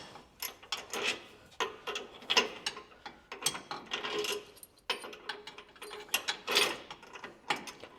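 A socket wrench ratchets on an engine mount bolt during an engine installation in a garage, quick bursts of clicking strokes repeating close up, with short pauses between pulls.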